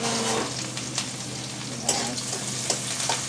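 Chopped onion fries in hot oil with roasted cumin, a close, continuous sizzle broken by a few soft scrapes of stirring, with no one talking.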